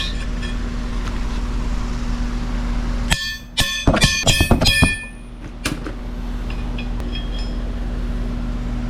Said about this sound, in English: dropping a lug nut on and pounding it out